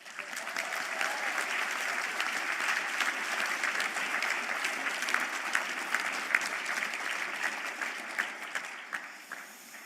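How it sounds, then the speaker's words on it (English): Sustained applause from a graduation conferring ceremony audience in Galway, a dense steady wash of many hands clapping for the new graduates for the full stretch, easing slightly toward the end. "we might give one more round of applause for that"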